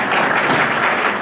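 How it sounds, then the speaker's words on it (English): Meeting attendees at a membership gathering clap together in a brief, steady burst of applause at close range. "Everybody clap."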